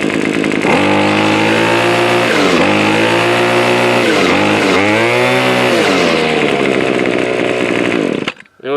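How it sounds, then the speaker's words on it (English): Gas-powered grass trimmer engine held at full throttle, a loud, steady high-pitched whine with RPM wavering as it climbs and falls, then cutting off abruptly near the end. "when I'm pressing the throttle, full throttle, the trimmer head is taking a little bit of time to actually speed up, and then you'll hear the engine RPM come back down"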